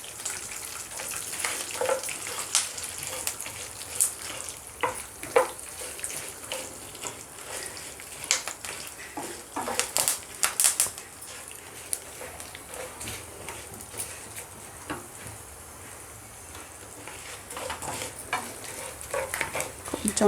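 Dried red chillies and curry leaves fry in hot oil in a home kitchen, a steady soft sizzle with scattered pops and stirring scrapes, no talk over it.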